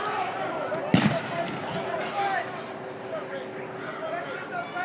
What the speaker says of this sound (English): and smoke grenades. Now they are firing them into the neighborhoods,